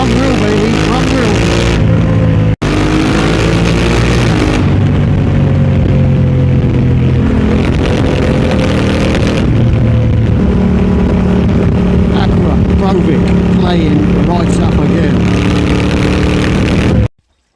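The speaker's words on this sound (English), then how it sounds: "Now I'm sure this bike sounds better with a blue sky" A motorcycle cruises steadily at 70, its engine holding a constant droning hum under loud wind rush, with a short dropout early and an abrupt cut at the end.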